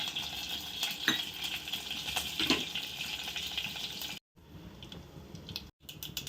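Tempering spices and dried red chillies frying in hot oil in a pot on a gas stove, with soft crackling and a spoon scraping and clinking against the vessel, fairly quiet and close, with brief dropouts near the end.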